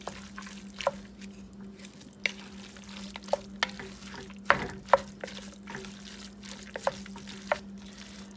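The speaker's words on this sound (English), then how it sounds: "I'm just gonna mix this all in and just stir it once in a while until it's all the way cooked." Crumbled sausage and vegetables sizzle quietly in a pan, with a steady fry hiss and intermittent clicks and scrapes from a utensil stirring them.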